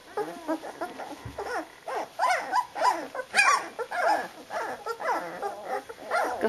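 A flat-coated retriever puppy about thirteen days old whimpers and yips in a steady run of short, close, high-pitched cries and squeals lasting several seconds.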